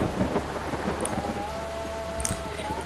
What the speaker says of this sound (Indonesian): mesti admin yang ngatur agar cuaca hujannya bisa deras seperti ini